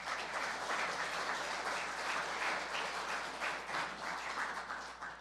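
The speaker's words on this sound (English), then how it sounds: "I would like to give a round of applause to the folks who made this possible" A church congregation bursts into sustained applause, a dense wash of many hands clapping evenly throughout, moderately loud and unbroken by speech.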